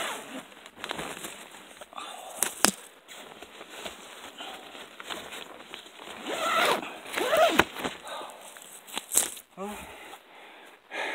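A zipper on a tent or bag is pulled shut in several quick rasping strokes, close by, mixed with fabric rustling and handling noise outdoors beside a creek.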